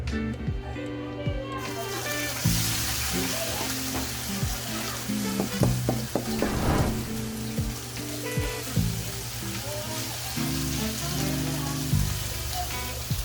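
A potato mixture seasoned with black pepper is stirred for a homemade pizza, with close, repeated scraping and clattering strokes over a constant low hum.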